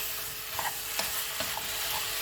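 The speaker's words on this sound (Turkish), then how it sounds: "Şöyle birazcık bunları karıştırıyoruz." Red lentil soup ingredients with tomato sauce are stirred in a pot, soft scraping and light sizzling with a few faint clinks of the spoon, quiet and close.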